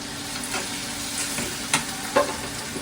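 Onions frying in a pan while fish curry is prepared, giving a steady broadband sizzle with a few louder stirring scrapes, close and alone.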